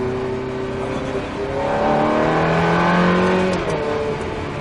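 Ferrari F430 engine on a race track, a steady droning note that climbs smoothly in pitch as the car accelerates, loud and close.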